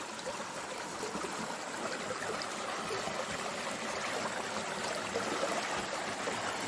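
A small, cool river flowing steadily, a continuous soft babble and trickle of water heard close by with no voices.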